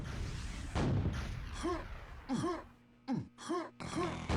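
Grenade explosions burst out in a QuakeWorld duel, several booming blasts in quick succession mixed with game effects, loud and close with short gaps between them.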